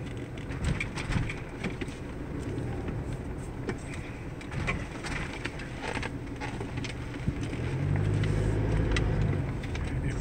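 A car drives along a city road near a bus station, giving a steady rumbling road and engine noise with scattered clicks and rattles, and a louder low hum building toward the end.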